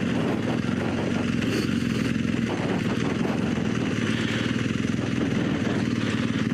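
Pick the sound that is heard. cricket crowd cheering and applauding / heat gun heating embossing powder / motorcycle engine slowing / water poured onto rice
motorcycle engine slowing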